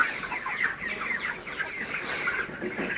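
Four-week-old broiler chickens on a poultry farm cluck continuously as a dense, close flock, with no voices over them.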